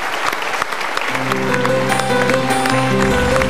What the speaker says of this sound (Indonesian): Tapi lihat ya, kita berikan tepuk tangan dulu.